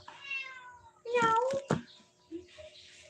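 A cat meows several times at close range, with drawn-out wavering cries and a short later call, while people talk softly nearby.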